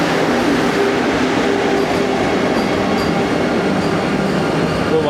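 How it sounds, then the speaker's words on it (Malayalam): The Vande Bharat Express passes with a loud, steady rushing roar of rail noise that holds constant throughout, with no voices. "ഇപ്പോൾ വന്ദേ ഭാരത് എക്സ്പ്രസ് ഇങ്ങനെ ഇറങ്ങിപ്പോവാണ്."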